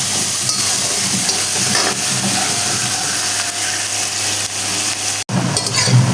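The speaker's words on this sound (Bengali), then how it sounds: "এর মধ্যে 3টে মিডিয়াম সাইজের পেঁয়াজ দিয়ে দিলাম।" Three medium onions fry in oil in a pan, a loud, steady, close sizzle with faint stirring scrapes and a short break near the end.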